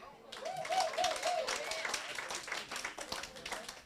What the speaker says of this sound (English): Round of applause if you believe in Jesus.